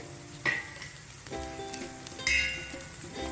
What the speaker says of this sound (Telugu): కొంచెం వేగాక ఎండుమిర్చి కట్ చేసిన ఎండుమిర్చి ఉన్నాయి కదా పది ఎండుమిర్చి వేసుకోవాలి